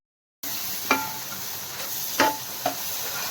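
Tomato paste and ginger-garlic paste frying in a pan, a steady sizzle with three sharp spoon scrapes against the pan as the mixture is stirred, close and alone without speech.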